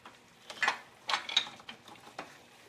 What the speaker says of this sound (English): I've got my really big heavy duty torque wrench. This one goes up to 250 foot-pounds.